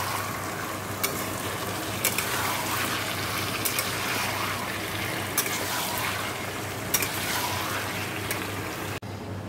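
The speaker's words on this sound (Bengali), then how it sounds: "আলুগুলো দিয়ে ভালো করে কষে নেব।" Chicken and potatoes fry in a karahi, giving a steady, quiet sizzle with occasional brief clinks and stirring scrapes throughout, and no talk.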